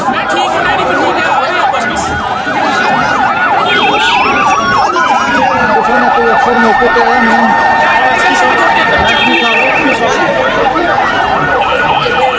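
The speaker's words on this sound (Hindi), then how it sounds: "सड़कों पर एम्बुलेंसेस दौड़ रही है" Several ambulance sirens wail on the city streets of Islamabad after a bombing, loud, continuous and overlapping, with a voice talking over them.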